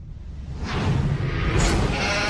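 Sheep bleating in the New Zealand horror film Black Sheep, a dense flock cry rising loud over a low rumble, with overlapping bleats swelling from about midway and continuing to the end.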